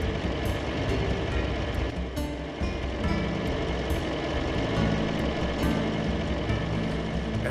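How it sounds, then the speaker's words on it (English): Steady rumbling clatter of a tram ride in the video game Dark Cloud, a constant loud mechanical drone with rhythmic rattling and faint metallic squeaks, no talking. "So let's take the tram."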